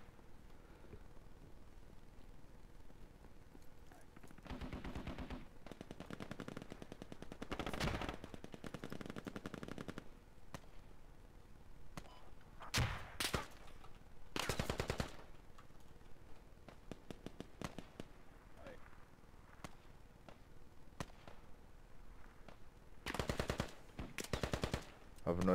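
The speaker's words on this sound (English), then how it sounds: "I have no idea where he's shooting me from" Gunfire in the military shooter Squad during a fight around a mosque: scattered bursts of automatic rifle fire and single shots, some near and loud, others more distant, spread over about twenty-five seconds with low background rumble.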